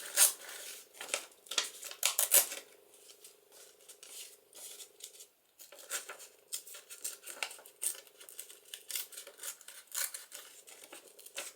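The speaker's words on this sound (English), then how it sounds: "I'm going to tear some of the top off of that." Paper being torn by hand for a craft project, several quick ripping bursts in a row with short pauses between, close and fairly quiet, with no one talking.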